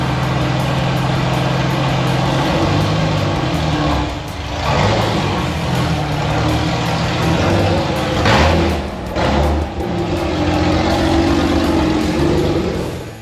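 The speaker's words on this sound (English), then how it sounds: "now is time to take it for a quick drive, open headers and all" Ford EL Falcon with a Barra engine swap driving with open headers, a loud, close, rough engine drone that rises and falls as it revs and shifts, with brief dips between pulls.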